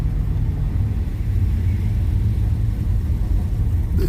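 A car drives slowly through a parking lot, its low engine rumble and road noise steady and continuous throughout, with no talk over it.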